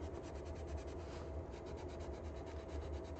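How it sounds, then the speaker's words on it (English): Fine sandpaper is rubbed over a 3D print being prepared for molding, making a faint, continuous scratchy scrubbing with a regular back-and-forth pulse, with no speech. "I don't know why this finer sandpaper didn't do a better job getting rid of the scrapes from the thicker sandpaper."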